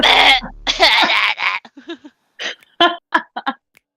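A voice imitates a harsh hacking cough: a loud raspy burst followed by several short, choppy coughing and throat-clearing sounds, close and alone.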